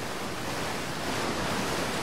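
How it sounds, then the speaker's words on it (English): A waterfall in the video game Outer Wilds gives off a steady, close, dense rushing roar of falling water, unbroken and even in loudness throughout. "Through the waterfall."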